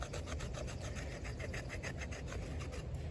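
A TOPS Fieldcraft BOB knife blade shaving thin curls from wood, a soft steady rasping scrape repeated in quick regular strokes, close and fairly quiet.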